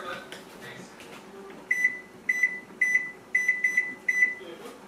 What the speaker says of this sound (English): So I'm going to put on the timer for 15 minutes.